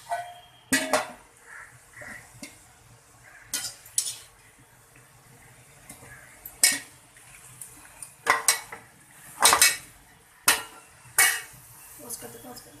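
A metal spoon scrapes and clanks against a kadhai while roasted beetroot halwa is scooped out, a series of sharp irregular clinks and scrapes close by, with a voice speaking between them.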